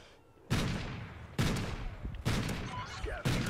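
Sniper rifle shots in a video game: four loud, booming single shots spaced about a second apart, each with a long decaying echo tail.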